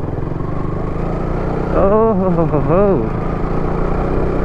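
A KTM RC 200 motorcycle rides along a rough path. Its steady engine and road noise run throughout, and a person gives a brief exclamation over it midway.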